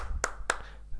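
Two sharp hand claps about a quarter second apart, close and distinct over a low steady background hum, with no voices.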